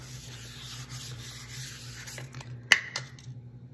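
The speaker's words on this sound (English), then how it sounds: "I have the Dixie Belle clear wax and I'm just gonna start putting that on there and coat it real good" Dixie Belle clear wax is rubbed onto rustic wooden Christmas decor: faint, soft rubbing strokes over a low steady hum, with one sharp tap partway through.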